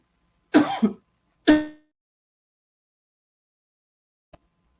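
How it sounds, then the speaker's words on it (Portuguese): Two harsh coughs in quick succession, then a single faint cough a few seconds later, close up in an otherwise quiet room. "deu um acesso de tosse"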